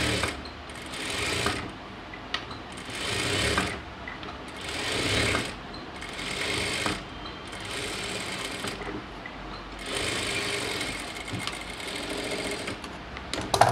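A sewing machine runs in repeated bursts, stitching around the lining of a chudidhar sleeve, its rapid whirring clatter rising and easing as each seam is sewn, close and loud without speech.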